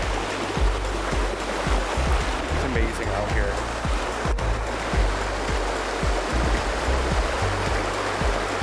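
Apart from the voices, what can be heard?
Oak Creek stream water flowing in Sedona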